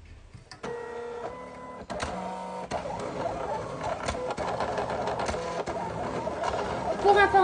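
A Silhouette cutting machine, its blade set to 6, cuts out a design with a steady mechanical whir and stepping motor tones that rise toward the end, while someone talks over it.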